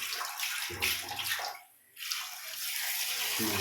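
Fresh mutton is washed clean under running water, with a close, steady splashing stream that briefly stops and then resumes, with no talking.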